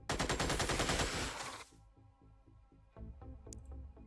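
Rapid automatic gunfire from the Xenonauts video game: a loud, dense burst for about a second and a half, then quieter, evenly spaced shots continue to the end.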